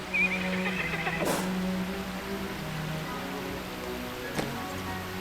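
A horse whinnies once in the game Lord of the Rings Online, clear and close, over a steady hiss like rain, followed later by a sharp brief click.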